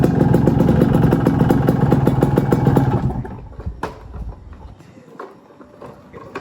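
A two-stroke motorcycle engine runs noisily up close, a buzzy, rapid-firing idle for about three seconds before it cuts off, leaving faint clatter and background sounds.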